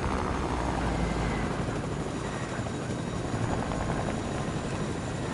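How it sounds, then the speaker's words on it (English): Helicopter in the video game Fortnite, its rotor giving a loud, continuous whirring thrum with a fast rhythmic beat that holds steady throughout, no talk over it. "I like this helicopter."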